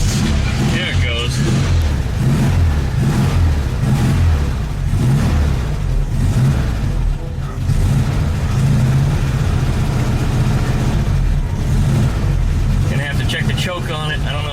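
A VW Beetle engine with a freshly primed carburetor and an unconnected choke wire starts and runs at a loud, rough, steady idle, with someone talking over it.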